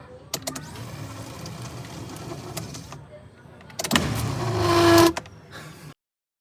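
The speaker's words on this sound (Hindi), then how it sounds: "अब एसी की ब्लोअर की आवाज़ सुने" A car's AC blower fan, damaged by a rat and being repaired, gives a steady rushing hum, rising in intensity toward the end before cutting off abruptly, with brief clicks and thumps along the way.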